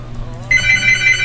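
A telephone ringing in a bedroom, a steady electronic ringtone that starts abruptly partway through and warbles on steadily over a low room hum.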